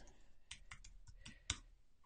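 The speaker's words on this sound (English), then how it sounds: "I'm typing away here." Light, sparse clicking of keys on a computer keyboard, a few scattered taps and one sharper click, quiet and close with no talking.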